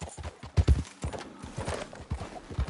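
A horse's hooves clip-clop in Red Dead Redemption 2 in a quick, uneven rhythm of close, loud thuds, with no talk during the hoofbeats.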